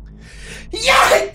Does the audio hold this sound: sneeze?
yes